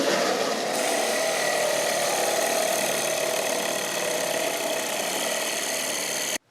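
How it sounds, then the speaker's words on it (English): A metal worker runs a drill on metal, a steady, loud, whining machine drone that holds unbroken for about six seconds and then cuts off abruptly, with no voices. "Sometimes I drill things."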